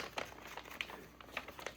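Scattered crinkles of knife packaging paper being handled up close during an unboxing, a few sharper crackles standing out from a soft rustling bed.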